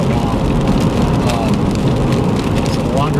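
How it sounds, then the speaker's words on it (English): Steady, loud rain pours onto a truck on the road, a dense continuous hiss with scattered drop impacts throughout, alone and up close. "we haven't hit any rain this entire trip until just now"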